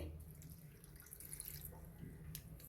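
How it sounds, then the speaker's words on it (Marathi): A quiet, steady trickle of water being poured onto jaggery in a bowl, with faint splashy drips, alone and close by. "1 वाटी गुळाला मी अर्धी वाटी पाणी घालते"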